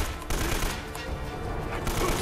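Rapid gunfire in the Uncharted: Drake's Fortune video game during an enemy wave, a dense, continuous barrage of overlapping shots and blasts that fills the entire short stretch.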